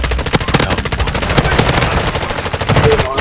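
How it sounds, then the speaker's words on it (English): Dense automatic gunfire in Call of Duty: Modern Warfare on PS5, with rapid bursts of shots cracking loud and close throughout, amid ongoing battle noise. "Yeah, I was getting shot."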